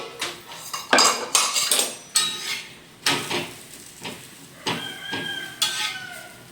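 Metal pans and utensils clatter and clink in a home kitchen as butter goes into a pan of paneer butter masala and a lid is set on top, a run of sharp, close knocks and scrapes.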